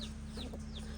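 Hens and chicks in a farmyard cluck softly in a brief, faint burst of chatter over a steady low hum.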